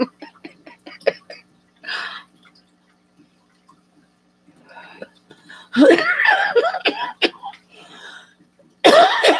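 A person who smokes coughs in short, loud, harsh bursts, several near coughs clustered midway and another at the end, with quieter clicks and speech-like sounds earlier.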